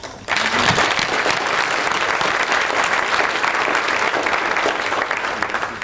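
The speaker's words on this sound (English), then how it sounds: "So please join me for the applause." Guests at a symposium opening dinner applauding together, the clapping starting abruptly after a brief pause and staying loud and full, thinning only slightly toward the end.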